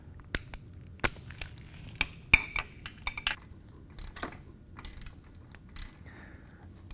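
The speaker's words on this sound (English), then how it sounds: "take your ratchet and your 3-inch extension and your 5/8 inch socket and remove it" A ratchet with a 3-inch extension and 5/8-inch socket loosens the transmission drain plug on a Harley-Davidson motorcycle, giving scattered sharp clicks and short bursts of ratcheting, close by over a low background rumble.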